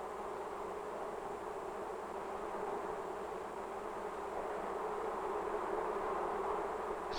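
Honey bees buzzing steadily in a dense, continuous drone that holds at an even level throughout, with no voices.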